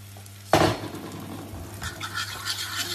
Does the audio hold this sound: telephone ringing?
no